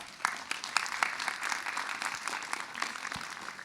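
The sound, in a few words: audience applause for the concert musicians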